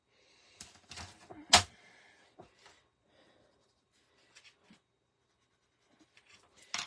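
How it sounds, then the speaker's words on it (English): A pencil making a mark on craft card for a handmade graduation card, heard as a few short, faint scratchy strokes close by in an otherwise quiet room. "I'm gonna put a pencil mark here"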